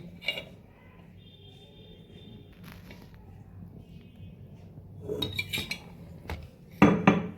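Grated radish paste is mixed with mustard oil and chopped coriander in a bowl, giving close clinks of a utensil against the dish and soft scraping. A burst of louder clatter comes near the end.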